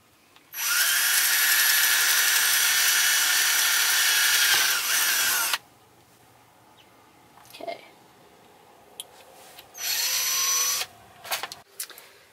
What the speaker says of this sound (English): I'm just gonna drill a hole through both